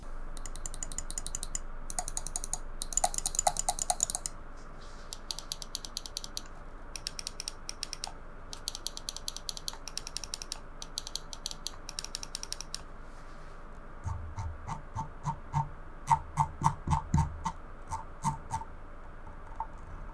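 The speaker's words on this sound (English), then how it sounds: "There's super defined stops on the scroll wheel." A scroll wheel on an Endgame Gear XM1 gaming mouse ticks through sharply defined notches, producing bursts of rapid, crisp clicks in uneven runs and pauses, close and clear, with no talking.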